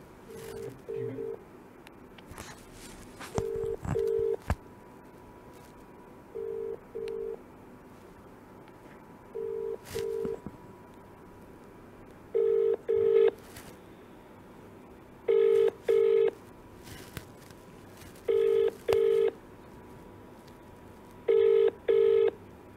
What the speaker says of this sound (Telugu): టీవీ హరియానాకు కూడా కాల్ చేసే ప్రయత్నం చేస్తుంది